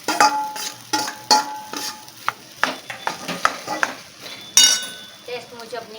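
Mashed potatoes tipped into a pan with turmeric-spiced oil and stirred for a vada pav filling, giving repeated scraping, clinking spoon strokes and a light sizzle at close range, with no talk.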